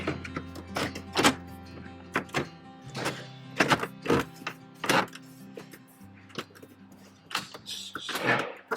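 A car radio bezel is pressed back into a Chevy Colorado / GMC Canyon dashboard, giving a series of sharp plastic snaps and thunks in an uneven rhythm, close and fairly loud.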